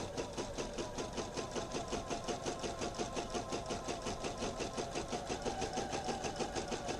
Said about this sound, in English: we will just zigzag over this one, these two seams.